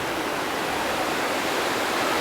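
Water tumbles down a cliff in a waterfall on Mt. Baldy, a steady, full-bodied hiss and rush heard close and alone, unbroken throughout.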